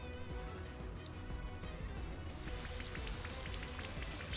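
Rain Dance in Pokemon Shining Pearl brings a steady patter of falling rain that thickens into a dense, crackling downpour partway through, playing over the game's background music.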